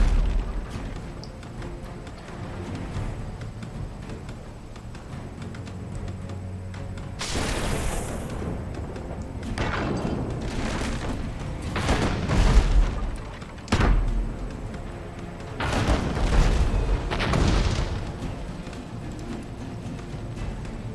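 Repeated booming mortar shots from a naval battle in the video game Abandon Ship, heavy blasts landing in irregular clusters over a low rumbling background, growing denser and louder partway through.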